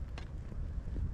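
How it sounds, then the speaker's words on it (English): Wind gusts buffeting a microphone on a snowy hiking trail along a ridge, a steady low rumble close at hand with brief flutters, no talking. "It is windy."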